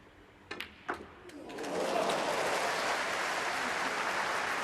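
A snooker crowd breaks into applause after a couple of sharp knocks, the clapping swelling into a broad, steady wash that carries on to the end, heard from some distance.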